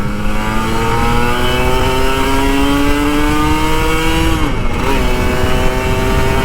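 A Kawasaki Ninja RR 150 two-stroke sport motorcycle engine revs hard and climbs steadily in pitch, loud and close, with a brief dip near the end before pulling again.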